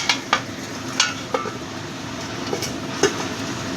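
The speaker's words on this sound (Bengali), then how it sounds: "ফুটতে শুরু করেছে" Spicy ivy gourd (kudri) curry just coming to a boil in a pan, a low simmering hiss marked by a handful of sharp pops and clicks at irregular intervals.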